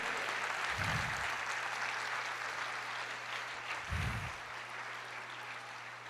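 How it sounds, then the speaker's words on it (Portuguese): Church congregation applause during a Brazilian Portuguese sermon: a broad, sustained wash of clapping from many people, moderately distant, with a couple of low thumps along the way. "Aplauda o Senhor"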